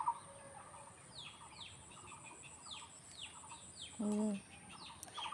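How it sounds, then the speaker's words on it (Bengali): Ducks on a pond give a single short, nasal quack near the end, faint against a quiet outdoor backdrop of small birds chirping and light rustling. "দেখুন এই জলের মধ্যে হাঁসগুলোকে ছাড়া হয়।"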